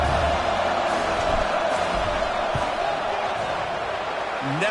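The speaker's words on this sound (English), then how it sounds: "This crowd trying to do its part to get inside the kicker's head." Broad, steady roar of a stadium crowd during a field goal attempt in a college football video game, a continuous wash of noise at even loudness throughout.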